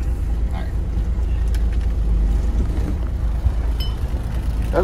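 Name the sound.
truck backing up to a hopper bottom trailer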